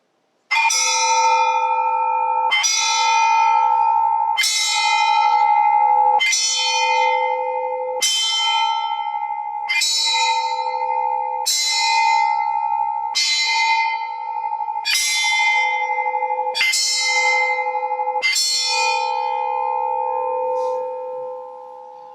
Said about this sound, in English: and we ring those bells.